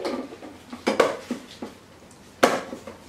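Airtight plastic kitchen containers with white lids are handled close by, giving several hollow knocks and clacks at irregular intervals, with two sharper bumps standing out and quiet gaps between.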